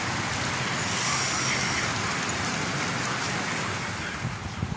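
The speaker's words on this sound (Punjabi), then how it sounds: "ਦੇਖੋ ਜੀ ਕਿੰਨਾ ਮੀਂਹ ਹੁਣ ਬਹੁਤ ਜ਼ਿਆਦਾ" Heavy rain pours down steadily in a dense, loud hiss with no break, with a faint low rumble beneath it.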